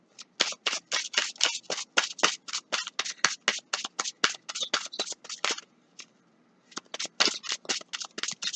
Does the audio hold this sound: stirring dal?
no